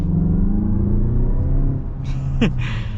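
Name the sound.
turbocharged car engine revving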